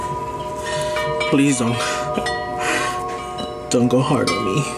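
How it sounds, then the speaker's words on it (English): Wind chimes ring in strong wind, sustained, overlapping metallic tones in the background while a person talks over them. "It's super windy, so I'm sorry about the wind chimes going crazy."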